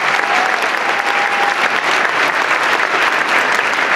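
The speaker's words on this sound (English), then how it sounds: "if everyone could just give me a big round of applause for the pastor and the whole congregation" Steady, loud applause from an audience honoring a pastor and congregation at an evening church gathering, dense clapping sustained throughout with no break.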